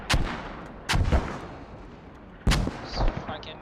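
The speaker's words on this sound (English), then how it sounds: "Rocket coming in, just narrowly missing." Incoming rocket explosions in a multiplayer shooter video game on the Kohat map: three sharp, booming blasts spaced a second or so apart, each followed by a rumbling tail.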